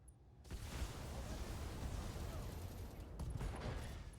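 Weapons fire in the BattleTech mech combat video game, a dense roaring barrage of gunfire and explosions that sustains loudly throughout, with a few sharper bursts near the end.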